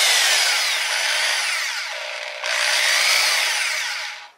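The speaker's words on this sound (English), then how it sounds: "And you'll be able to drill into" A rotary hammer drill fitted with an adapter bores into wood, a loud, continuous high-pitched whine with a short dip midway before it spins down.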